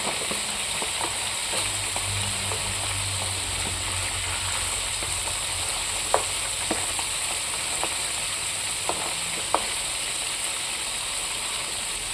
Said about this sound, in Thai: อันนี้เราทำปลาทอด